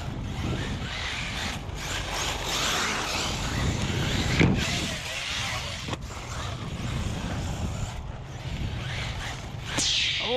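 An ARRMA Talion EXB 6S RC car drives on a tire with no foam inside. It makes a continuous, rushing, gravelly motor and tire noise with whooshing surges and sharp clicks. Nobody speaks.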